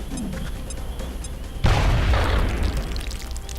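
A grenade explodes in the XCOM video game with a sudden loud boom, a heavy rumbling blast that follows a quieter stretch of game ambience and then trails off slowly.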